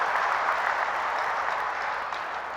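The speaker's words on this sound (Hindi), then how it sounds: "जोरदार तालियों से उनका भी स्वागत कीजिए।" Crowd at an outdoor election nomination rally in Tosham, Haryana, breaking into loud, sustained applause, a dense continuous wash of many hands clapping with no talk over it.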